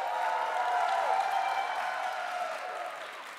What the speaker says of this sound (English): Give him one more good round of applause as he takes to the stage.